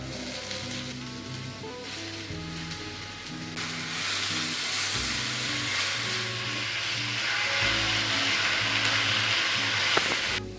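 Drumstick leaves frying in a pan, a steady hiss and sizzle that swells as they go in, over a low background hum.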